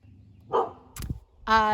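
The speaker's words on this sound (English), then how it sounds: "apparently my dog's outside for some reason." A dog outside gives a couple of short barks and yips, fairly close, mixed with a brief knock and a voice-like tone at the end.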